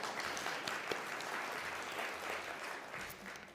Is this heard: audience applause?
yes